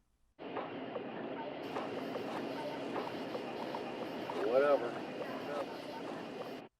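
Nighttime nature ambience recorded on a boat as a voice memo: a steady, low, rushing wash of water and air with a brief spoken word from a man partway through.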